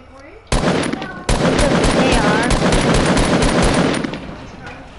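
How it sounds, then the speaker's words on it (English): Gunfire in the video game Fortnite aimed at a chest, a loud rapid burst of shots starting abruptly, briefly pausing, then continuing in a fast stream before tapering off, with faint voices in the background. "I was shooting a chest."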